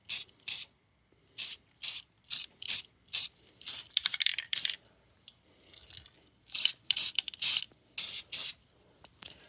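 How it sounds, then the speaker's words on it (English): Aerosol spray paint hisses onto a BMW E30/E24/E28 pedal bracket resting on a leather workbench mat, in about a dozen short, loud, close bursts, some in quick pairs, with brief pauses and a rattly mechanical stretch between them. "I'm actually just spraying on the leather mat I use as a topper for the workbench"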